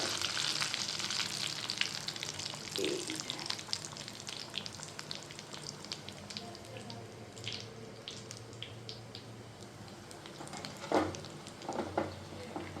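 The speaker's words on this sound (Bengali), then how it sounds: "এই যে টকবক করে ভেজে গেছে" Food deep-frying in hot oil in a home kitchen, a steady close bubbling sizzle with occasional crackles and clinks, no talking.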